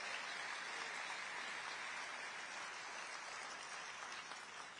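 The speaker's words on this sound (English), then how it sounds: "How about one big round of applause to thank their sponsors and welcome the" Sustained audience applause at a Detroit event, a dense even wash of clapping from a large crowd that holds steady throughout and eases slightly at the end.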